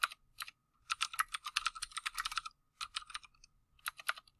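Bursts of quick key clicks from typing on a computer keyboard while customizing a Canva template, close and crisp, in several runs separated by short pauses.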